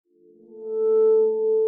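A free synthesizer plugin plays an ambient, resonant layered patch: a single sustained pure tone swells in, holds steadily, then cuts off abruptly with a small click.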